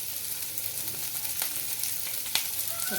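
Onions fry in a pan with salt for a hotel-style chicken gravy, giving a steady, close sizzle with faint stirring scrapes and one brief clatter.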